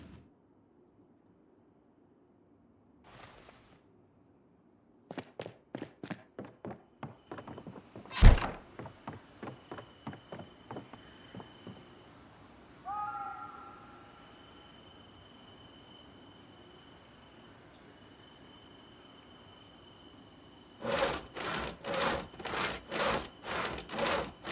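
A hacksaw works in the video game Project Zomboid, a run of quick rhythmic rasping strokes with a heavy thunk and a few scraping sounds between, then another burst of fast strokes near the end, without speech.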